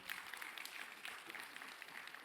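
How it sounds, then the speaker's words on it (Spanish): Congregation in a church clapping together, a steady, dense wash of applause at a fairly low level that holds for a couple of seconds without pause. "Dele un fuerte aplauso al Señor en esta hora."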